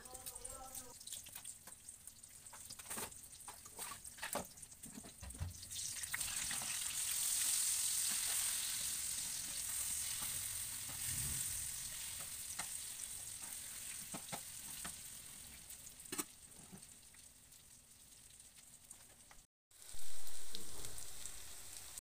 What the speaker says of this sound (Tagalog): Binabali-baliktad ko din yung niluluto ko na pritong talong.